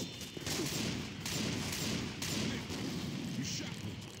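Gunfire from Left 4 Dead 2 rattles in dense, overlapping bursts across the clip, with a constant roar of game action underneath and faint voices mixed in.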